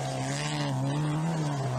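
A Ford Escort rally car drives hard, its engine holding a loud, steady droning note close by for a short stretch, with no talking.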